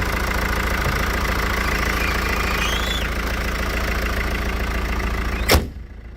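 A Mercedes E200 BlueTec diesel engine idles steadily and loudly up close, its low rumble and faint knock continuous, until a single sharp slam of the hood near the end leaves it duller and quieter.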